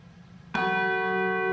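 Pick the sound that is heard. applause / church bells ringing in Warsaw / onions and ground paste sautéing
church bells ringing in Warsaw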